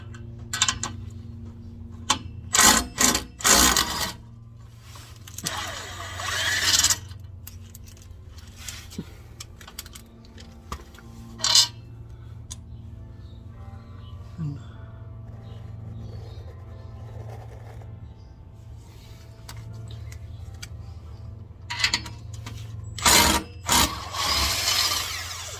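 Bolts and nuts being removed from the exhaust down pipe of a Genesis Coupe, with scattered metallic clicks and bursts of ratchet or tool noise among quieter stretches of low hum.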